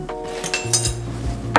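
A spoon clinks and scrapes against a bowl as kosher salt is mixed into dry ingredients, with a few bright metallic taps and a low scraping hum, close and fairly quiet.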